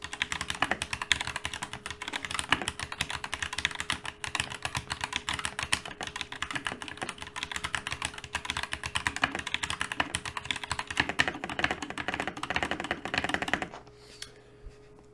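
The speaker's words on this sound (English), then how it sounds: "Now let's check out the Gateron Red switches." Rapid, continuous typing on a DeepCool KG722 65% mechanical keyboard fitted with Gateron Red switches, dense clicky keystrokes recorded close up, ending with a few isolated key taps after the flurry stops.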